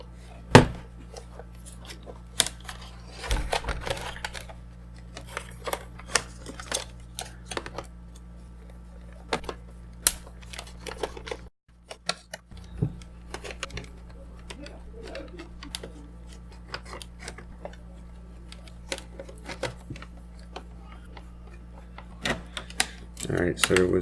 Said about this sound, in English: Alright, let's get this battery out of here.